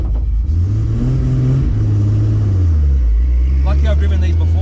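A tuned twin-turbo car, Lamborghini or GT-R, pulling away on a street with a rising then falling engine note as it shifts, heard from inside the cabin under people talking.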